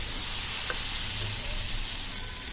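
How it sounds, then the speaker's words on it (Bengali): Chicken pieces fry in a pan with a soft, continuous sizzle and low background rumble, fairly quiet and steady with no talk. "আজকে চিকেনটাকে আমি রান্না করেছি ভেজে।"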